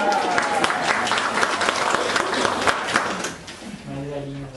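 Dense, sustained applause from a study group marking a birthday fills the room, fading near the end as a voice begins speaking.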